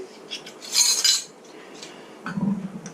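Cayenne pepper is mixed into ground deer meat for smoked jerky sticks, making light, close clinks and scrapes of a utensil against a bowl in a few uneven bursts.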